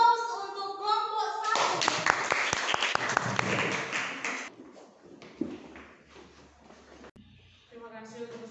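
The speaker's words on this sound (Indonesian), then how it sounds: "kita berikan aplaus untuk kelompok" An audience claps for a presenting group in a classroom, a burst of steady applause lasting a few seconds, with voices talking before and after it.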